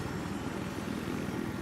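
A helicopter in Battlefield 3 drones steadily with a low rotor chop, a continuous engine hum filling the moment without a break.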